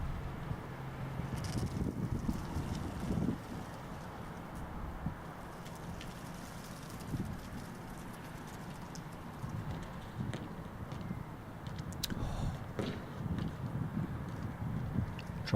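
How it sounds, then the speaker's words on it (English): Gusty wind buffets the microphone outdoors at a football field, a steady low rumble swelling and easing in uneven gusts throughout. "You can hear the wind, can't you?"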